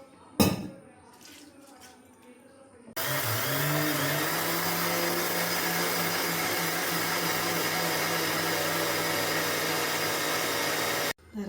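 A grinder churns soaked, washed rice with water for idli batter, running loud and steady with a droning whine from about three seconds until it cuts off near the end, after brief quieter handling noises.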